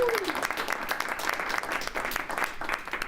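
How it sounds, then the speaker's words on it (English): Applause from a studio audience at a live show, steady clapping from a modest crowd that keeps a lively, even texture. A voice is heard briefly at the start. "Let's get a hand for the CODEC Show,"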